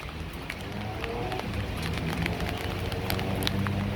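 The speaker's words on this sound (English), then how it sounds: "I hope the camera picks up those raindrops because it's really pelting down here" Heavy tropical storm rain pouring down steadily, a dense, loud hiss with drops drumming on nearby surfaces throughout.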